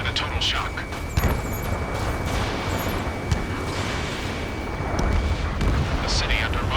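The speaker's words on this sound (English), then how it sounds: "gunfire and the roar of jets echoing through the streets" Gunfire and roaring jets from the Ace Combat 7 video game, a city under martial law at night, form a dense, continuous wall of rumbling booms and bursts with sharper cracks near 1.2 and 3.3 seconds.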